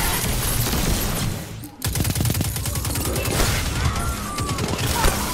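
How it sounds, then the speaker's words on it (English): Rapid gunfire in the sci-fi shooter game Destiny 2 rattles in dense bursts, with a short pause before another volley and booming impacts, loud and up front. "I heard another shot here."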